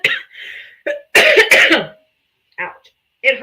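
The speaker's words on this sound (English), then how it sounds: "It hurts when I cough." A woman coughs and clears her throat in a few short, harsh bursts, close and loud, between snatches of her own speech.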